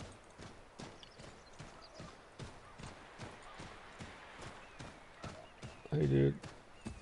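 A horse gallops in Assassin's Creed 3, its regular hoofbeats pounding close and steady, with a louder burst near the end and a voice over the rhythm.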